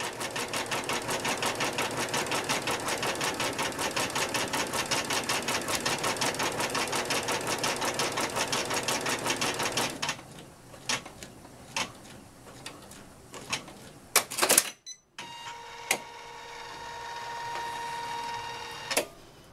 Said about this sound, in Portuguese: Tá acabando já de costurar a costura de segurança.